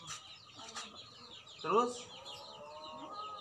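A chicken clucks in a village during a street haircut, with one louder cluck near the middle and softer bird calls around it, under light background talk.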